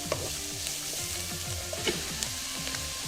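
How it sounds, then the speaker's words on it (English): Kimchi frying in a pan for vegan kimchi fried rice, a steady close sizzle with a few small pops and stirring scrapes, no voices. "Then I'm gonna add my kimchi."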